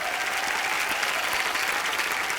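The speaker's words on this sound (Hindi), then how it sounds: "और मनीषा जी के लिए और जोरदार तालियां।" A studio crowd at a television comedy talk show claps steadily and vigorously for a couple of seconds, a thick, even wash of applause with no pauses.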